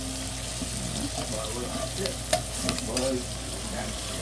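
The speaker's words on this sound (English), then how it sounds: "those onions are, again, cooking very well" Onions frying in a pan alongside liver, a steady close sizzle with a few scrapes and stirring clinks, a voice faintly under it.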